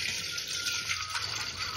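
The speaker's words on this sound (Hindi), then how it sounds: "और इसमें हमें लेना है पानी" Water from a tap pours into a steel cooking pot in a home kitchen, a soft, steady hiss that stays faint and unbroken for a moment.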